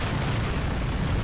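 Missile explosions in War Robots, a dense, loud, sustained rumbling roar of overlapping blasts without pause, no voices heard.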